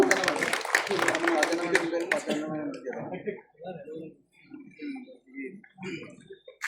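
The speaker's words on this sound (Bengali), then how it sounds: "সবাই একটু মিজান ভাইয়ের জন্য জোরে হাততালি দেয় একটু।" An audience at a prize-giving ceremony claps for Mizan in a brief burst of applause that fades into scattered claps, with people talking throughout.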